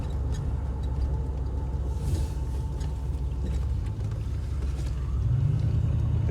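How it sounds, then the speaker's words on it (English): An old, badly worn car rumbles steadily and loudly from up close, a continuous low engine and road drone with a slight swell near the end. "if you own a very old and very worn out car, you get to know every creak and sound the thing makes."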